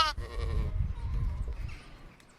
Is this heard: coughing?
no